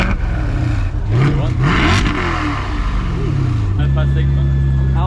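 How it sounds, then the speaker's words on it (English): At a Miami car meet, a car engine revs hard in loud, rising and falling bursts before settling into a steady low rumble, with crowd noise around it. "Rev it, rev it!"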